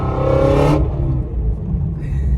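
Ford Shelby GT-350 fitted with Kooks headers and an X-pipe, heard from outside: a loud revving exhaust that drops off sharply into a deep, steady rumble at idle.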